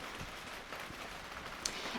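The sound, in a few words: rain falling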